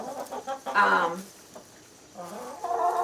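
Backyard homestead chickens clucking over corn, a few close, bright throaty clucks and murmuring calls in short bursts with a quiet pause between.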